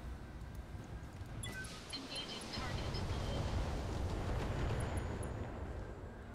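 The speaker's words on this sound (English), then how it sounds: "There were a lot of explosions." Explosions in the Battletech video game, where mechs fight during a city escape mission, build into a dense, sustained booming rumble with crackling debris on top.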